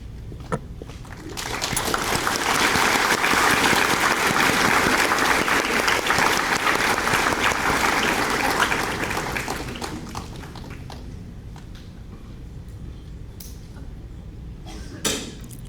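Audience at a high school senior awards ceremony claps for honored students, applause swelling after a moment, holding strong for several seconds, then fading to scattered claps and room noise.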